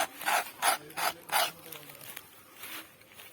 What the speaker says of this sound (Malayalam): ഇത് പഴയ പട്ടയായതുകൊണ്ടാണ് ഞാൻ ഇതിന്റെ മേളിൽ കൂടെ ചിരണ്ടുന്നത്